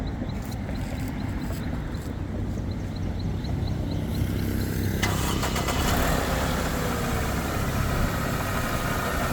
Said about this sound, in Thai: ดูห้องเครื่องกันไปแล้ว สตาร์ทเครื่องกันเลยครับ